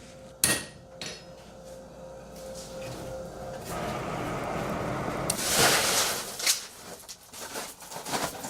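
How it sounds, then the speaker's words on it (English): Two loud metallic clangs ring out as a heavy hammer strikes hot steel, followed by a hissing, roaring stretch from a coal forge and a flurry of quicker clinks and knocks nearby. "it sometimes takes mighty swings of a heavy hammer to make the steel do what Bennett wants it to do"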